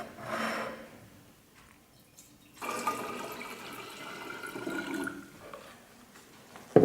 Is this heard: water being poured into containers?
yes